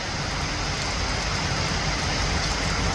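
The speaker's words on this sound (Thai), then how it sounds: "ฝนตกหนักมากเลยทุกคน" Heavy midday rain pours steadily outside a roadside fried-chicken stall near hills, a dense continuous hiss that stays level and unbroken throughout, with no voices.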